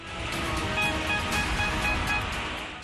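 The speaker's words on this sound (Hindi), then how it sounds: "दहाड़ती लहरों का शोर," Roaring floodwater waves from monsoon rains in Kangra, Himachal Pradesh, surging over a dam's waste weir as a loud, continuous, close wash of churning water with no pauses.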